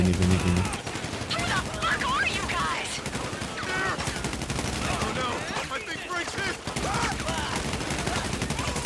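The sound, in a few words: gunfire in video game GTA Online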